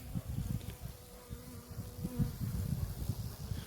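Bees buzz close by in a dense, fluttering hum that rises and falls continuously, with no talking.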